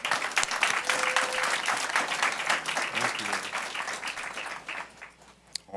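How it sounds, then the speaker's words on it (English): An audience at a school district board meeting claps steadily in warm, sustained applause that tapers off near the end. "please join me in a round of applause for Melissa Cowan."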